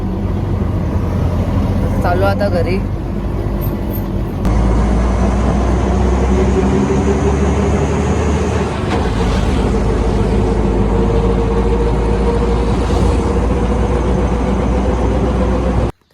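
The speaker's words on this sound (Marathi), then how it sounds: "तर गाईज रिक्षामध्ये बसलेलो आहे" Auto rickshaw ride through traffic: a loud, steady engine rumble with passing vehicle noise, close throughout, while someone speaks briefly near the start and the sound cuts off at the end.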